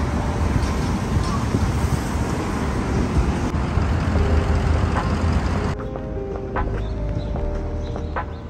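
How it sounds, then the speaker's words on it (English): Strong outdoor wind roaring steadily and loudly across the whole stretch, a dense rushing noise that eases slightly toward the end, with faint distant traffic-like rumble beneath. "Wind is crazy."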